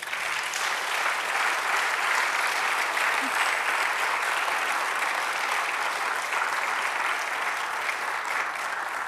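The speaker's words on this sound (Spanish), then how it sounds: "Denle un aplauso a Jesús." A church congregation applauds during a sermon, a dense, even roar of clapping sustained for several seconds without pause, moderately loud and filling the room.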